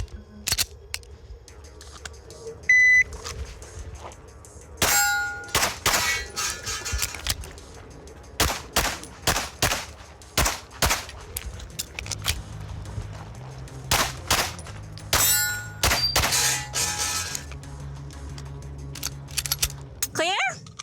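Live-fire shooting demonstration on a competition course: a rapid string of loud, sharp gunshots in irregular bursts across the clip, with some pauses and low background hum between strings.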